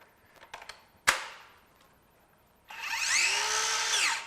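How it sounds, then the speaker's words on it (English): A Kreg 7 1/4 inch circular saw with soft start and soft stop runs freely without cutting. A few clicks and a sharp knock come first, then the motor winds up to a steady whine, holds, and begins to wind down. "Our 7 1/4 inch circ saw, I won't worry about making a cut with that, but I'm sure everybody wants to hear it."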